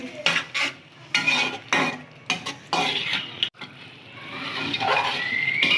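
A spatula clatters and scrapes against a pan as butt karahi is vigorously stir-fried, giving repeated loud metallic knocks and scrapes in bursts that settle into a steadier frying hiss toward the end.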